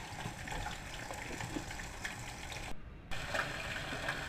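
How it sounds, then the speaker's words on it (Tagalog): Water poured into a pot of fish paksiw with tomatoes, onion and ginger, a steady close gushing stream running for several seconds with one brief break, no talking. "Ayan, lagyan ko na ng tubig."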